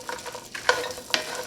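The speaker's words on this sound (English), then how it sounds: "we're just going to let them toast for about a minute" Nuts toasting in a dry pan, quiet scraping and rattling strokes with a couple of sharper clicks as they are stirred, faint and close.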